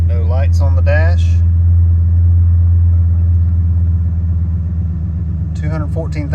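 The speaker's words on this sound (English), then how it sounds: "how about a cold start? It's been 4 days." A Ford Excursion with about 214,000 miles idles after a cold start following four days parked, its low steady engine rumble continuous and close throughout, with a person talking over it at the start and again at the end.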